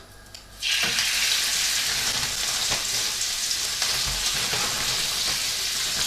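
Floured steak meat, a second batch, hits a hot pan and fries with a sudden loud, steady sizzle that starts after a brief quiet moment and continues without a break.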